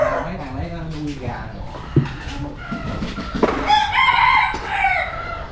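Roosters crow and chickens cluck, kept inside a rented room in Trà Ôn, Vĩnh Long, close and loud, mixed with people talking over them and a brief sharp knock.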